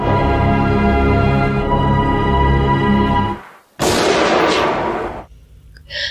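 A sustained musical drone in a film cuts off, then a loud sharp gunshot erupts and decays into a rumbling tail before fading near the end.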